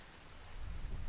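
Steady rain in a video game, a soft continuous hiss of falling drops that swells slightly louder toward the end, with no talking.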